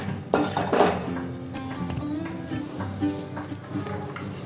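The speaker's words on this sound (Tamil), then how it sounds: "இது நல்லா பொரியட்டும்." A bay leaf frying in hot oil in a pan for broccoli biryani: a steady, close sizzle, with a few light clinks and stirring scrapes near the start.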